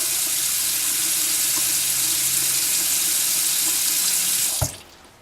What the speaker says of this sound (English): And now we do the bathroom sink, hot and cold.